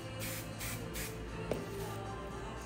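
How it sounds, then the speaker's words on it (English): Hairspray hisses in several short, close bursts onto styled hair, evenly spaced with a brief pause between sprays. "I'm gonna take my hairspray"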